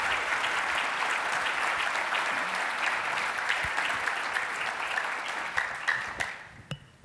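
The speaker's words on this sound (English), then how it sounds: "Please, a huge round of applause." Dense applause from a large audience at a museum summit morning session, steady and loud for about six seconds before thinning into scattered claps and fading out.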